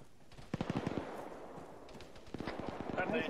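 Rapid bursts of machine gun fire from the video game ArmA 3, a rattling volley early on and another later, with voices talking over the shooting.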